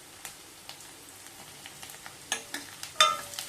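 Vegetables, including finely chopped potato, sauté in a pan for a chicken stew, making a quiet sizzle broken by scattered crackles and a few stirring scrapes, close and without voices.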